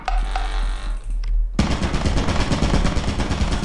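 Turrets in the game Lethal Company fire rapid loud bursts that cut in after a low hum, a dense, continuous rattle of gunfire up close.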